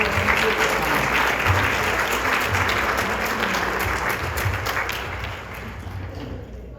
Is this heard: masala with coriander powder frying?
no